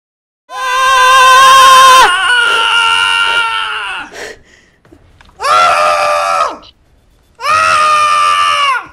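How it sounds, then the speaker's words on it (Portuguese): Two people scream loudly and close up: one long sustained shriek, then a sharp break, followed by two shorter, strained bursts separated by brief silences. "abaixa o som porque eu e o POC vamos gritar agora"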